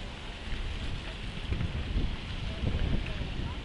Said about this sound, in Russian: Ветер очень сильно чувствуется.